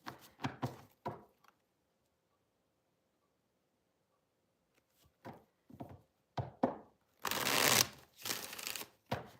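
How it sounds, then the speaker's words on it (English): A deck of tarot cards is shuffled in several quick riffling bursts, first briefly at the start, then more steadily after a quiet pause, close and crisp. "let me pull you a card and you'll be the last one"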